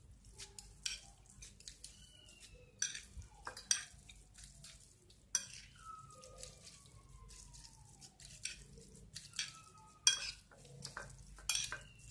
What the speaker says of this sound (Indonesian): secepatnya langsung kita aduk agar bumbunya cepat meresap dan merata